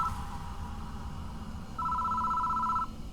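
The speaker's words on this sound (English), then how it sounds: "The phone starts ringing out of nowhere." Telephone ringing in the horror game Death Mark, two bursts of an electronic ring tone with a pause between, heard clearly over a low background hum.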